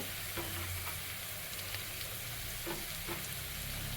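Curry leaves sizzling in hot oil for a Kerala-style fish curry: a dense, steady crackle and hiss of frying throughout, with a few light stirring knocks.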